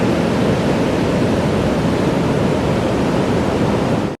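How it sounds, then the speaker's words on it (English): Pacific Ocean surf rolls onto a stone beach in a loud, steady roar that stays unbroken and close before cutting off sharply at the end. "The noise on this stone beach is deafening, and the raw power of the Pacific Ocean rolls in"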